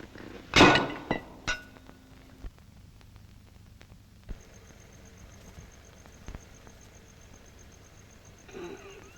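Glass shatters with a loud sharp crash at the start, followed by a few scattered tinkles and knocks, then quieter faint clinks in a hushed room.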